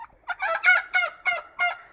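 A young turkey poult and a hen call in a rapid series of five or six sharp, clear yelps, close and fairly loud against a quiet farm background.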